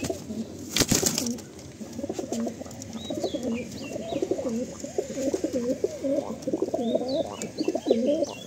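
Madrasi pigeons coo in a loft in Kolkata, a steady run of low, rolling calls close by, joined by faint higher chirps and a brief knock near the start.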